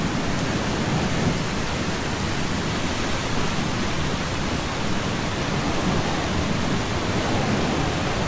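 Steady, dense rain with a low rumble of thunder pours down outdoors in the video game Eastshade, a continuous wash of noise at constant loudness with no voices.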